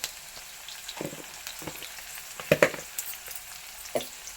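Onions frying in a hot pan with cumin seeds tossed in, a steady low sizzle broken by a few sharp crackles and stirring clatters, close and unhurried.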